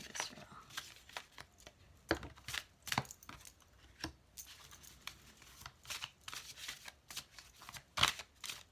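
A deck of tarot cards is shuffled and riffled for a reading, giving repeated quick papery flicks and soft slaps in irregular bursts, close and fairly quiet, with no one talking.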